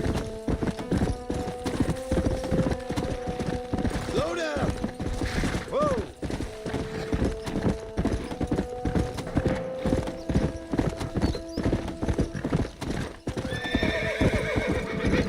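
A horse in Red Dead Redemption on Xbox Series gallops with fast, continuous clip-clopping hooves, breaking into a couple of loud neighs partway through.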